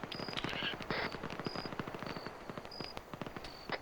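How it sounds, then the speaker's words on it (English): Rapid bursts of machine gun fire from the Vietnam-era military game ArmA 3 SOG rattle in dense, repeated volleys with sharp individual shots, mixed with short tonal beeps and some voice activity. "See machine gun fire"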